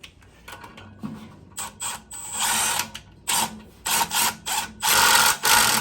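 A power drill whirs in repeated short bursts, turning a blower wheel puller on a stuck AC blower motor, starting and stopping with a grinding, ratcheting mechanical sound, loud and close.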